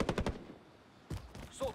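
Rapid bursts of automatic weapon fire in the shooter game Call of Duty Warzone, a quick volley of sharp shots at the start and another cluster near the end, separated by a quiet pause.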